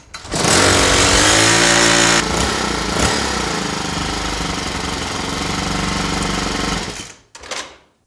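A Troy-Bilt TB575EC weed eater with a newly replaced carburetor runs loud and close, a steady high revving buzz with a brief rev change, then cuts off with a short sputter.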